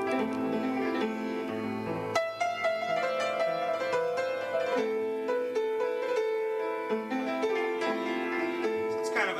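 A minor chord rings out on a musical instrument, struck and sustained, then restruck partway through with notes decaying in a clear, close tone.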